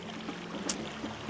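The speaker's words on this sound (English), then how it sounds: "We eventually did find the waterfall" A small waterfall in the California wilderness gives off a faint, steady rushing hiss of falling water, continuous and even throughout, with no voices.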